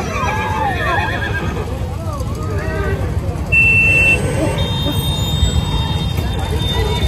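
Horses whinny at the crowded Pushkar horse fair in 2023, several drawn-out neighs early on, with someone talking, a buzzer-like tone and busy fairground noise around them.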